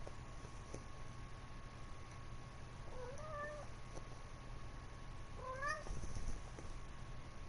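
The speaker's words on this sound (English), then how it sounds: "This is definitely my cat." A pet cat gives two short, clear meows a few seconds apart, faint and a little distant over a steady background hum, with no talking.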